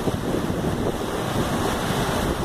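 The Rio Preto waterfall roars as a dense, steady rush of falling water, close and loud, with a broadband wash and some wind buffeting on the microphone.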